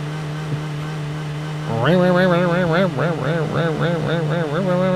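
A steady truck engine drone in the video game Drive Beyond Horizons jumps into a higher, wavering rev that rises and falls repeatedly, sounding synthetic and continuous.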